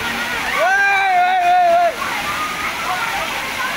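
A waterfall in Nepal, the Jhor falls, where people bathe, gives a steady, loud rush of water throughout, with a brief high tonal call over it in the first two seconds.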